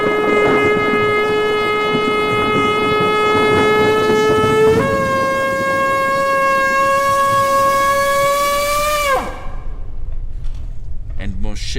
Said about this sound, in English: the sound of the ram's horn was very loud